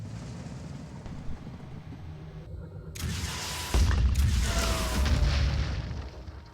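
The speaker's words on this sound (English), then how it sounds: "Okay, might be able to missile this." A missile explosion in the strategy game Phoenix Point, a deep rumbling boom bursting out over a low ambient drone and rolling away into a long noisy tail.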